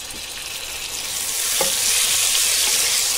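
Tomatoes fry and roast in a pan for a spicy fish curry, a close, loud sizzle with stirring scrapes that grows slightly stronger, no voices.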